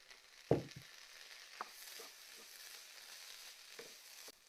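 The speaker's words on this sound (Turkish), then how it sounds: "Biberlerimiz de biraz kavrulduktan sonra domatesleri ilave ediyorum." Peppers sizzle softly in a pan, with a sharp hiss as tomatoes are dropped in near the start, then gentle crackling and a few stirring clicks.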